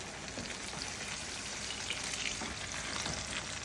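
Spicy sausage frying in a pan, a dense, even crackling sizzle like light rain that holds steady and close throughout, with no voices.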